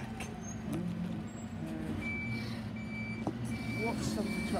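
Bin lorry from a green waste round in Bournemouth giving steady, repeating reversing beeps over continuous diesel engine rumble, with faint voices and street noise in the background.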